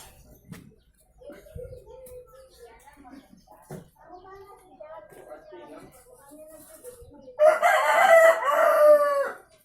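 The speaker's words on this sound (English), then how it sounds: "That was the noise from our new rooster, Mr. Lazarus" A rooster crows once, loud and near, near the end of the clip. Before that come quieter clucks and someone speaking on a farm where corn is being harvested.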